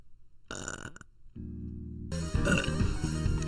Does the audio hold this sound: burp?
yes